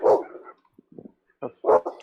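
A puppy barks in a few sharp, close yips and woofs, spaced irregularly with short whimpering sounds in between and no talk.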